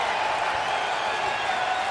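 A stadium crowd roars and cheers continuously on fourth down at an NFL preseason game between the Green Bay Packers and Buffalo Bills, a dense, steady wash of distant voices.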